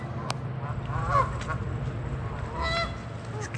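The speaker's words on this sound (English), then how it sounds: "These guys are making a racket." Geese or mallard ducks honking outdoors in a windy setting, several calls in two short bursts at moderate distance over steady low wind rumble.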